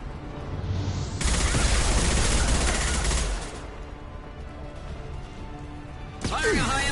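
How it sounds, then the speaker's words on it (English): Gunfire erupts in Mass Effect 2 as a loud, rapid burst lasting about two seconds, then falls back to a lower din before another sharp blast near the end, with a voice speaking over the combat. "Firing a high-impact shot!"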